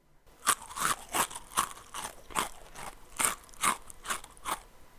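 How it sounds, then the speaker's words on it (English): Repeated loud, sharp crunches in a steady rhythm, about a dozen bursts over five seconds, heard alone without talk, like bones or something brittle being bitten and chewed inside a dog's shed. "A loud crunch comes from the corner of the dog's shed"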